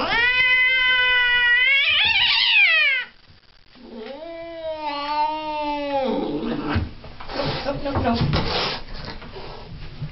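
A cat lets out long, drawn-out meows up close, two loud wavering cries followed by rougher, choppier vocalizing, with a person speaking in between.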